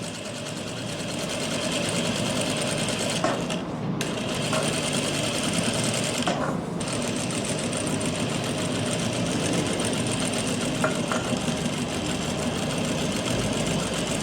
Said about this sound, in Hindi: तो अब हम मशीन पे चलते हैं कि कैसे अटैच करना है इसको।